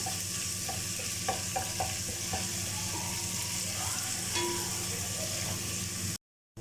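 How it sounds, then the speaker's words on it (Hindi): A tablespoon of garlic-ginger paste sizzles steadily in hot oil for chicken korma, with stirring clinks and scrapes mixed in. The frying carries on throughout and cuts off abruptly near the end. "1 टेबलस्पून भर के लहसुन अदरक का पेस्ट ऐड कर देंगे और इसकी 30 सेकेंड भुनाई करेंगे।"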